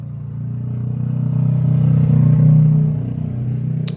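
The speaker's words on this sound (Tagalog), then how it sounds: "Nakikinig lang po kami sa mga dumadaan na mga sasakyan." Traffic passing outside a house is heard from indoors as a low engine rumble that swells to a peak near the middle and then fades, like a single vehicle going by.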